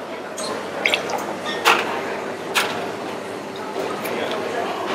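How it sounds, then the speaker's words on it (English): Lemon juice is poured into a cocktail at a bar: a few soft splashes and drips stand out over a faint, busy room background. "And 30 ml lemon juice."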